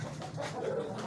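Pigeons of assorted breeds coo softly and steadily in a pet shop loft, a low continuous murmur with faint background chatter.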